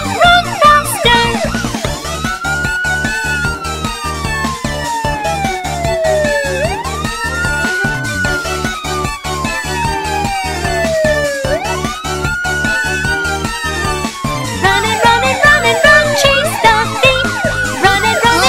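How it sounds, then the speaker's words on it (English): A cartoon police car siren wails loudly and continuously in sweeping up-and-down tones, layered over bright children's nursery-rhyme music. "Police car!"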